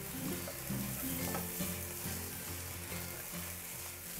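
Fried rice with luncheon meat, seasoned with light soy sauce and oyster sauce, being stirred in a hot pan: a steady sizzle with scraping and tossing of the spatula, close and continuous.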